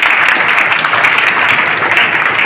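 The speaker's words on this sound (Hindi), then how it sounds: "उनकी भी जोरदार तालियों से स्वागत अभिनंदन करते हैं एक बार" Vigorous applause from an audience at a college seminar welcomes arriving volunteers, a loud, dense and continuous wash of clapping with no break.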